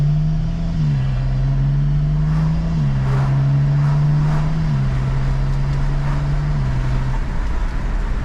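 A BMW with an N54 engine and a swapped-in DCT transmission accelerates gently under low power. There is a steady, loud engine drone that holds one pitch and steps through small shifts, with no voices.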